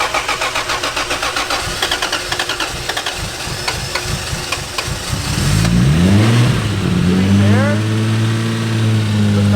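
A Toyota JZX110 Mark II JZ engine cranks with a rapid, rhythmic starter chatter, catches and then revs up and settles into a loud, steady idle. Voices talk nearby.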